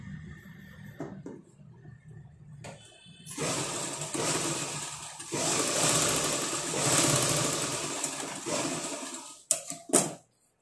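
Blouse tucks are stitched on a sewing machine that starts up and runs in a long, steady close whir, then stops with a couple of sharp clunks at the end.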